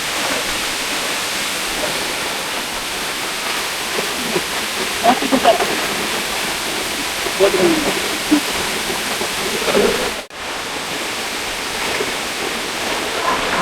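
Darawa Falls in Ilocos Sur pours as a loud, steady broadband roar of falling water that stays constant throughout, with faint voices and small splashes barely rising above it.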